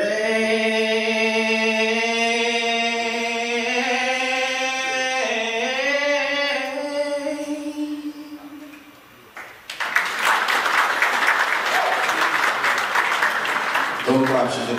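Applause fills a hall at an anniversary lecture, bursting out loudly after a sustained solo singing voice stops and continuing steadily to the end.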